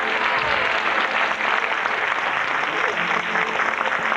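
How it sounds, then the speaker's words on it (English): Audience applause at a stage magic show, a continuous, dense wash of many hands clapping throughout, steady and fairly loud with no break. "let's give her a nice round of applause for your courtesy"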